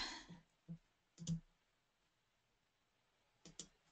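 A computer mouse clicking a download button on a website, a few sharp, isolated clicks spaced irregularly and heard close in an otherwise quiet room.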